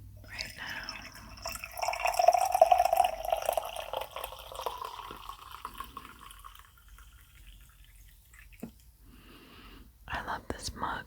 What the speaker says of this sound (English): I also have some coffee that I'm going to pour